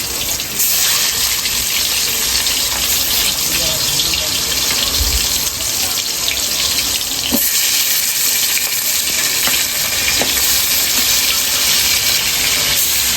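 Magur catfish fries in hot oil in a wok, likely under a lid against heavy spattering. A loud, dense, unbroken hiss fills the whole stretch, with a few faint clicks.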